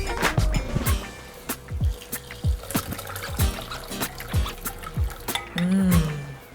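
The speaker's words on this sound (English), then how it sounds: "I'm gonna strain all of those goodies out because now all their essence is inside the red wine." Herb-infused red wine is strained, a light trickle and dribble of liquid broken by irregular drips and soft knocks, close by with no talking.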